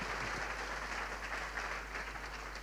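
A church congregation at a Korean ordination service claps together in a steady, moderately distant wash of applause that holds evenly for a few seconds, with a faint low hum underneath.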